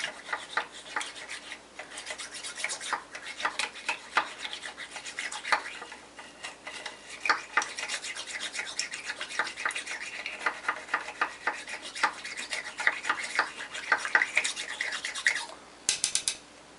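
A toothbrush with vinegar scrubs inside a faucet bore steadily with quick rasping back-and-forth strokes, close and fairly quiet, continuing for a long stretch with a brief pause.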